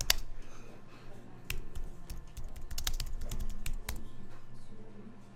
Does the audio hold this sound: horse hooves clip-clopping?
no